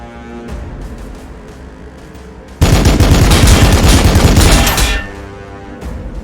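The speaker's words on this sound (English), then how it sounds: "Plasma fire" Plasma weapons fire in the video game Warhammer 40k: Battlesector, heard as a loud, dense burst of rapid crackling shots lasting about two seconds, then cutting off to quieter game ambience.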